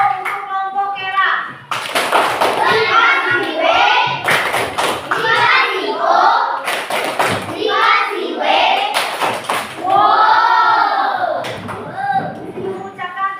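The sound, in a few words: children clapping a 'wow' applause for a group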